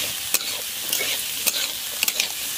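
Vegetables for a Kolkata street-style vegetable chop sizzle in a pan at a steady, moderate level, with repeated sharp scrapes of a spatula as they are stirred, and no talking.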